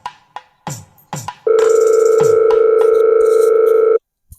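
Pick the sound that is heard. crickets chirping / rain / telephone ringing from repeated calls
telephone ringing from repeated calls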